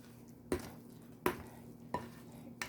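Frozen blueberries being gently folded into cornbread muffin batter with a spoon, giving four soft, evenly spaced scraping strokes close by with a quiet pause between each, and no talking.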